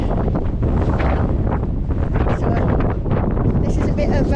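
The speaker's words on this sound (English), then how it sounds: "Oh my god, it's so windy." Strong wind buffets the microphone on a stony hillside path in the Lake District, a loud continuous roar throughout with a voice faintly audible beneath it.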